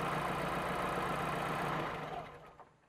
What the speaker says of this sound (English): wait until the engine returns to idle